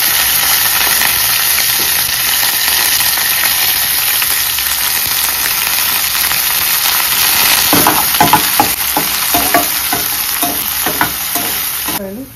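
Onions dropped into hot oil for a tempering with curry leaves, a loud, steady frying hiss throughout, with a clatter of stirring and fresh crackling bursts joining in the later seconds.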